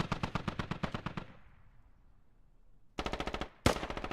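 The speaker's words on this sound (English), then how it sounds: "Bobby in the 50 cal technical here. Now putting some bullets on the buildings" Heavy .50 caliber machine gun on a technical in the video game Squad, firing loud rapid bursts of evenly spaced shots, a pause with echoing decay, then two more close bursts.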